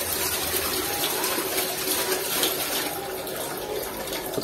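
Water drains out of a fish tank with a steady, continuous rushing gush close by, and no one speaks over it.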